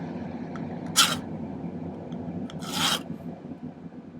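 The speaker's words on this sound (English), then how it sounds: "And then I'm going to use the corner of the file again to do that." The corner of a metal file rasps against a silver pendant piece in two short, bright strokes about two seconds apart, close up against quiet room noise.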